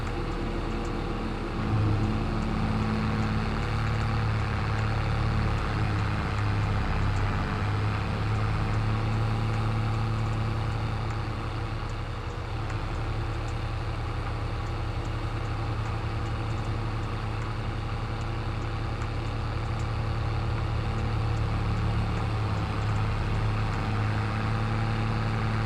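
Steady droning engine of a tractor in a farming video game, a constant low idle-like hum that runs unbroken and fairly loud with no talk over it.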